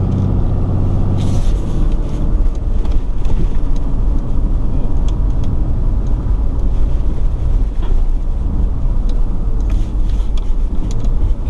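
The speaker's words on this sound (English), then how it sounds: "we're gonna drive this air suspension truck now" A RAM HD pickup truck with air suspension rumbles steadily from inside the cab as it drives, with road noise and no talking.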